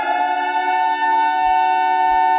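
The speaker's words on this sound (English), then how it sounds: "3, 2, 1. Launch the siren." A missile-launch siren in the strategy game Conflict of Nations: a loud, steady tonal wail with stacked harmonics, held without a break from start to finish.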